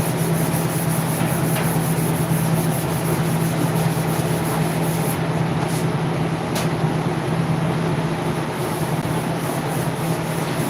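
Continuous rubbing as a yellow Dodge truck's paint is scuffed by hand with 400 grit sandpaper and a scuff pad, a steady, close abrasive hiss over a constant low hum.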